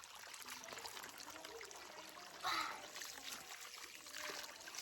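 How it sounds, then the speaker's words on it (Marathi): Someone splashing water onto their face, soft trickles and drips with a short splash midway, quiet and close, with a voice talking now and then. "तोंडावर पाणी घ्या"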